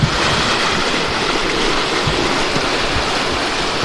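Spring water pours into a river in a steady, broadband rushing wash, loud and close, with no pauses and no voices.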